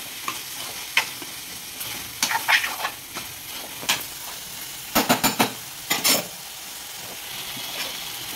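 Mutton keema curry stirred in a pan, a low simmering hiss under repeated spoon scrapes and clatters against the pan in short irregular bursts, close by, with no talking.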